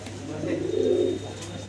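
A single low, throaty pigeon coo rises and fades over a steady background hum.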